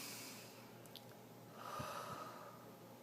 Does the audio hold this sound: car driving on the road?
no